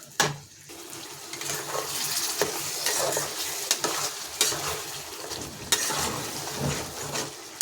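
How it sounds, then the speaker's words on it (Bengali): Crab curry being stirred and fried in a pan, a continuous loud sizzle with regular scraping strokes and occasional sharper knocks of the spoon throughout. "এটা কষাতে হবে ভালো করে।"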